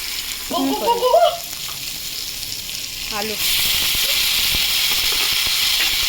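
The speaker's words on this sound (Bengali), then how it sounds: "পেঁয়াজটা ভাজা ভাজা করে ফিরছি।" Onion frying in oil in a pan for a fish curry with potatoes, a steady loud sizzle and hiss that swells partway through, with a voice talking briefly near the start.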